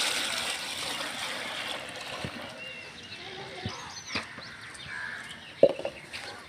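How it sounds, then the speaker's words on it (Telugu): Water is poured over a courtyard floor outside a home, making a faint, continuous trickling splash with soft birdsong and distant voices in the background. "ఇంకా అమ్మ వాటర్ పోస్తుంది"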